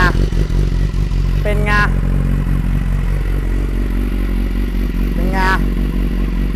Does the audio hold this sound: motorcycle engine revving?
yes